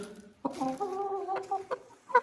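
Older hens in a backyard enclosure cluck in a close, steady run of throaty calls. Sharper squawks rise near the end.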